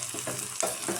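A tempering of onion, ginger, chili, curry leaves, mustard seeds and cumin sizzles in hot oil for dosa, a brief close crackling hiss.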